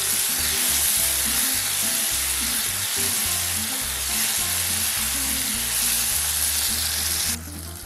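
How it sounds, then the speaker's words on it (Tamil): Eggplant sautés in hot oil, a dense continuous sizzle with rhythmic scraping and stirring knocks underneath, loud and close, ending with a brief drop near the close. "ரெண்டு நிமிஷம் கத்திரிக்காய் நல்லா வதங்கட்டும்."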